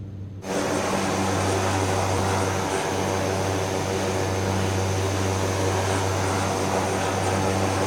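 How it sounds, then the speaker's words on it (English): Steady loud drone of a Cessna 208B Grand Caravan turboprop engine and propeller in Microsoft Flight Simulator 2024 as a Black Square add-on, rising in after a brief quieter start and holding an even tone. "this Caravan, Cessna Caravan, the 208 Bravo from Black Square, phenomenal"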